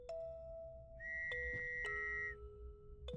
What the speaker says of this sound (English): Oh, that's a train.